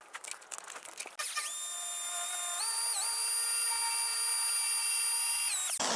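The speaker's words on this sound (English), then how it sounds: "it pays to have a drill bit that actually works" A power drill whirs steadily at high pitch for several seconds, drilling out a rivet on a 1978 Corvette control arm, dipping briefly mid-run as it bites, then cuts off abruptly.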